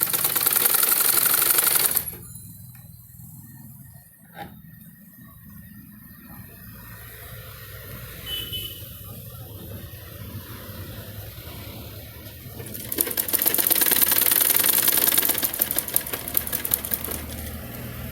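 Sewing machine stitching the neckline of a dress, loud bursts of rapid mechanical whirring at the start and again near the end, with quieter handling sounds between.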